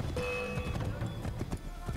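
Rapid hoofbeats of a galloping horse clatter over a busy Assassin's Creed III game soundscape, with a faint tonal note ringing briefly.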